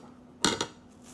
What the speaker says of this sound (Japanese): お皿に盛ってる。